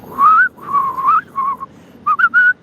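A person whistles alone in a clear, close, loud melody, a long gliding note followed by several shorter tones, then three quick chirped notes near the end.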